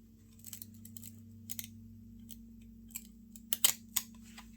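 Plastic wrapper on a 1993 SkyBox Marvel Masterpieces trading card pack crinkling in scattered short crackles, growing sharper and louder toward the end, close and quiet over a faint steady hum.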